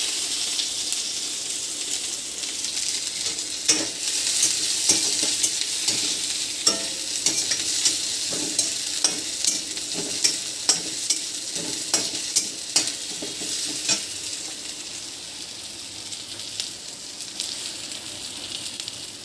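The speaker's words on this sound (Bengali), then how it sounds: "চুলা গরম হয়ে গেছে, দিয়ে দেবো পেঁয়াজ" Onions sizzle steadily in a hot pan, with occasional sharp scrapes and clinks of stirring throughout, no voices.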